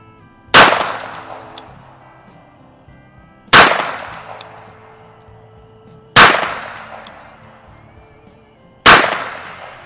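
Four loud, sharp shots from a circa-1930 Smith & Wesson Third Model .32 Regulation Police revolver in .32 S&W Long, fired single action, spaced about three seconds apart, each with a short decaying tail and no talk.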